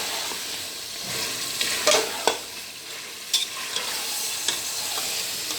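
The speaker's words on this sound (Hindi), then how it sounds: "इसको अच्छी तरह से हिलाएंगे और हमने इसको तकरीबन 20 मिनट के लिए भूनना है।" Chicken for korma fries in a pan, a steady close sizzle broken by several sharp scraping stirs of a spoon against the pot, with no talking.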